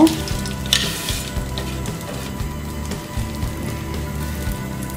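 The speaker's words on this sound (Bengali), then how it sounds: "এবার ঘিয়ের মধ্যে আমি সেমাইগুলো দিয়ে একটু ভেজে নেব" Vermicelli (semai) fries in ghee in a pan for sweet jorda semai, giving a steady, close crackling sizzle with occasional stirring scrapes throughout.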